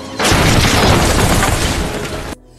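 A loud, sustained bomb explosion in a film roars for about two seconds, a dense blast of noise that cuts off abruptly into near silence.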